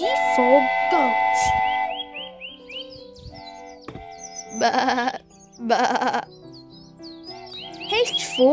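A goat bleats in a children's alphabet nursery song, with wavering bleat calls mixed among sung melody, whistle-like tones and music, moderately loud and close.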